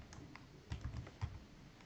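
A few soft, close keystrokes on a computer keyboard as Python code is entered, short and quiet with brief pauses between taps.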